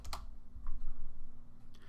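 Someone types a command on a computer keyboard: a few sharp key clicks up front, then a run of softer, rapid keystrokes, close and clear, with no talking.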